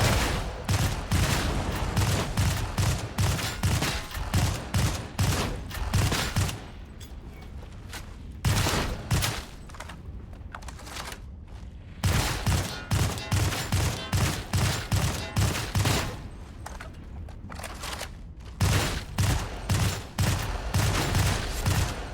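Vigilant Autogun hipfire in the video game Darktide: rapid automatic bursts of gunfire, several long strings separated by short pauses, loud and close.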